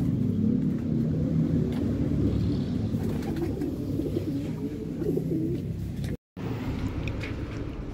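An injured pigeon, apparently shot, coos softly and repeatedly outdoors over a steady low rumble of distant traffic, with a brief dropout near the end.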